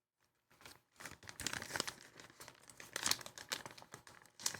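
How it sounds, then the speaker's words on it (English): A gummy candy wrapper crinkling close up as someone eats, with busy irregular crackling and rustling plastic that starts after a brief silence and keeps going at moderate volume. "if you hear crinkling, that's me eating gummies"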